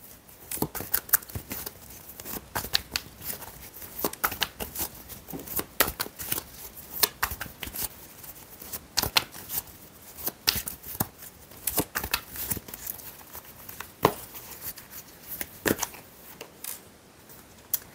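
Tarot cards are shuffled steadily for a reading, giving continuous close riffling and papery slaps with sharp flicks throughout, with no talking.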